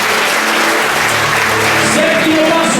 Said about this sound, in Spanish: Aplaude al Rey de la Gloria